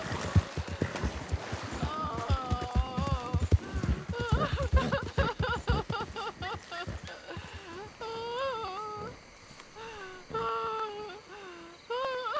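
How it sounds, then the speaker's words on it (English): A horse in Red Dead Redemption 2 clip-clops through a bayou with a steady run of hoof beats that fade and thin out as it slows. A voice talks over it and there is an occasional whinny. "Not sure why the horse has slowed down for that"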